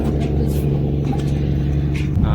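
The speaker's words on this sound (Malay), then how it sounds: "Suara enjin dia." A boat engine at Pulau Duyung, Kuala Terengganu, drones steadily and loudly with a low throbbing hum throughout, close by and continuous, with no voices.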